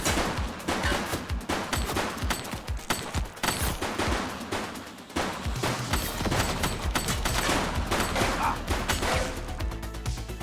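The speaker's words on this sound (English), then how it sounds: "She's shooting!" Dense rapid gunfire in The Precinct video game, sustained bursts of shots crackling almost continuously with loud impacts throughout, close and intense, with no talking.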